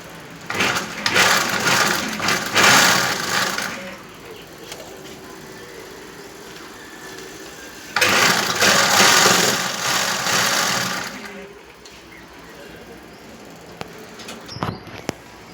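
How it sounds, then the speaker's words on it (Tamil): A sewing machine stitches a frill onto the bottom hem of a petticoat, running in two steady bursts of whirring and clatter with a quiet pause between them and a short tapping near the end. "ஃப்ரீல் தைச்சி பாவாடையோட அடி ஓரத்தில் வச்சு தைக்கணும்."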